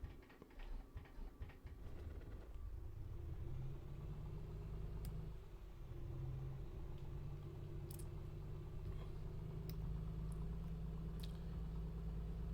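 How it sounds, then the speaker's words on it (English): A modernized car engine, built to resemble an older model, cranks and fires, then settles into a loud, steady rumbling idle that holds without letup. "Alright, so we're running the engine"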